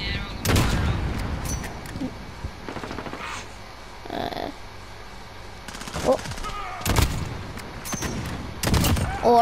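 In Call of Duty Modern Warfare multiplayer, sniper rifle shots ring out as several loud, sharp cracks spaced apart, with quieter game noise between them and a player speaking.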